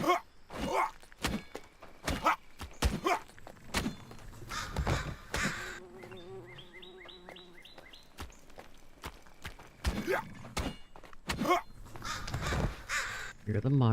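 Crows caw repeatedly as enemies transform into birds in a video game, scattered harsh calls mixed with thumps and footstep-like knocks, with a person talking through much of it.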